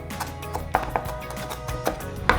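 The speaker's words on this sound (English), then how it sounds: "So I'm chopping some parsley" A knife chops parsley on a board for a cabbage and beef stew, in quick, irregular close taps over low kitchen background noise.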